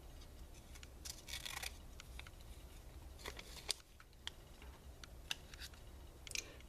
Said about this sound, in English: this little piece here I will cut off.